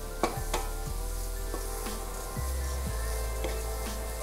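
Chopped mushrooms added to onions in a hot pan, giving a steady close sizzle with a few soft clatters and stirring knocks, no voices.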